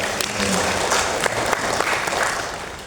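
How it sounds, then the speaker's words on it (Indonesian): Applause from an audience at a ceremony held by Indonesia's national language agency, a steady wash of clapping lasting about three seconds that fades slightly toward the end, with some voices mixed in. "Tepuk tangan."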